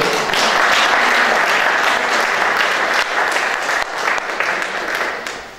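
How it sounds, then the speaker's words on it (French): At a press presentation of Miss Picardie 2018 candidates, a crowd applauds the mayor with loud, dense clapping that holds steady, then dips and tapers toward the end. "Bruno Marchetti, que vous pouvez applaudir"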